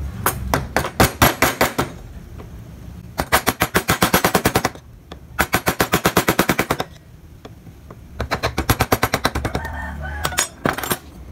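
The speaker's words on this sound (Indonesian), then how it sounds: "kalian bisa mendorong ke bawah ini, masuk ke dalam menggunakan pahat kol juga" Wood chisel carving into wood, struck in rapid bursts of sharp taps that come in clusters with short pauses between them, close and loud.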